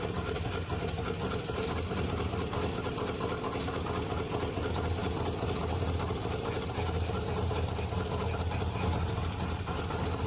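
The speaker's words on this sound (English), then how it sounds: "Look at how the engine's shaking" An engine idling roughly and shaking, producing a steady low rumble with a fast rattling pulse, close and constant throughout with no break.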